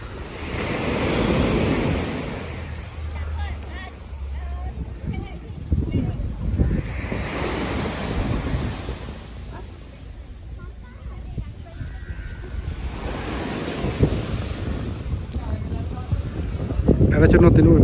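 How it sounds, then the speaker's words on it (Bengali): Strong, fast-moving sea waves break at an Indonesian beach, rising and falling in loud rushing swells with wind noise, while people talk over the surf. "ঢেউটা খুব স্পিড আসতেছে আজকে"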